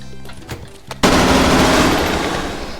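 Full-auto gunfire in close quarters in a video game, a few light clicks and taps followed by a loud, sustained, dense burst of rapid fire that continues to the end.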